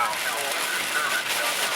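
Heavy rain pounds on a car during a tornado warning, a dense, steady hiss and patter that fills the clip on its own.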